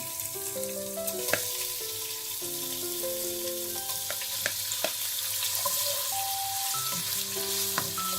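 Food crackles and sizzles steadily in hot oil, with occasional sharp pops and faint clinks.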